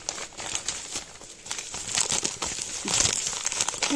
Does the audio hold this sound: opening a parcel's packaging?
yes